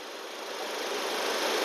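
A 2023 Maruti Swift Dzire car engine running quietly, heard as a steady, smooth hum that grows slightly louder and holds even throughout, with no voices over it.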